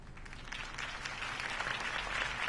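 Applause follows a mayoral campaign speech for Harvey Dent, heard as a faint, steady wash of distant clapping with no voices.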